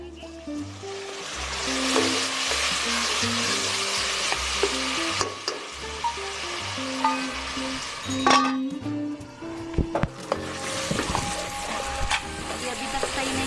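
Tomatoes cooking in a pan for a fish curry sizzle and crackle as a little water is added, with steady frying noise, clinks of a utensil and background music throughout.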